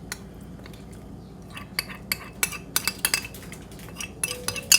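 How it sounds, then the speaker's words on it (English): Mashed dal goes into a pot of Chettinad-style garlic rasam with a run of sharp metallic clinks and scrapes from a spoon against the pot, growing busier and louder toward the end. "we're going to add in the mashed dal to it"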